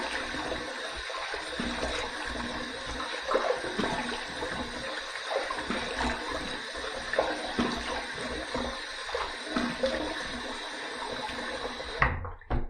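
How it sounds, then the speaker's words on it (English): Running water rinses a copper adjustable safety razor, a steady broadband splashing stream that continues throughout with brief louder spatters, close and alone without talk. "Let's rinse."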